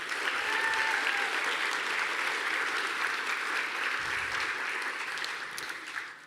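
A convocation crowd at Fullerton College gives a round of applause, broad and continuous clapping from a large audience in a hall that tapers slightly toward the end.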